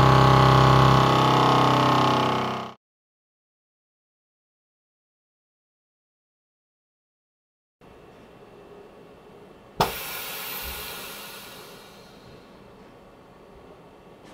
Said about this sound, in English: all we have to do is press auto vac and seal.